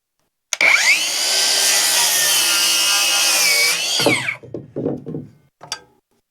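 A power saw cuts through a 2x4 outdoors, a loud steady whine that holds for several seconds and then trails off, followed by a few short clunks of wood being handled.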